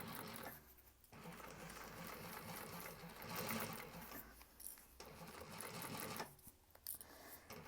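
Sewing machine stitching a thick seam up and over vinyl piping on a bag, bursts of fast needle whirring broken by short pauses, close and fairly quiet.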